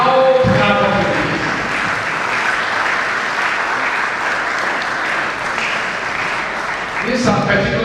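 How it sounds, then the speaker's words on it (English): An audience gives sustained applause at a bar association law week event in Benin, welcoming the Edo State police commissioner, with full dense clapping that holds steady before voices return near the end. "with a loud clap of applause"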